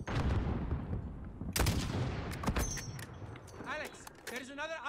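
Gunfire in Call of Duty Modern Warfare erupts in loud, dense bursts during a firefight, with shots overlapping other battle noise and brief voices heard around them.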